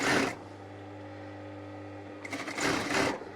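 A sewing machine stitches the seam of a box scatter cushion cover with an invisible zip. A steady mechanical hum runs through, and louder bursts of needle chatter come at the start and again near the end.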